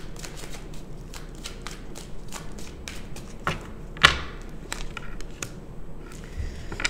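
Tarot cards shuffled close up, a rapid run of soft riffling taps and light slaps with one sharper snap as a card is drawn, no talking.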